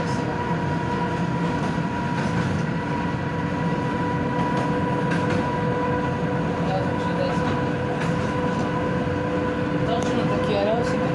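A tram runs along its rails with a steady rolling rumble and metallic hum, tonal whines holding throughout and occasional sharp clicks and squeals from the wheels, heard up close from on board.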